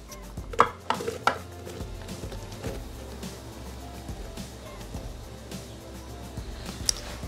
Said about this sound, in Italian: ed amalgamare con la spatola